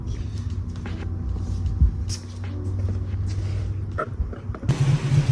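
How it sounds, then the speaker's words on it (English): A Datsun Fairlady's engine runs nearby at a steady, low idling rumble, joined by a brief, brighter rush of noise near the end. "So we have obviously the Datsun here running already."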